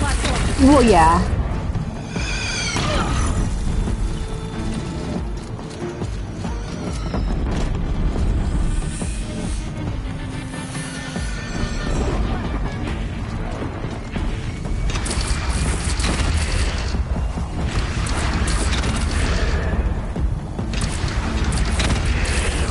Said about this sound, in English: Oh, these cannons are very handy.